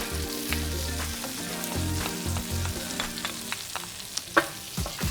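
Butter-melted onion and garlic sizzle steadily in a pan, a continuous close crackle with a few sharper pops and scrapes; a low broadband hum runs underneath, with no talking.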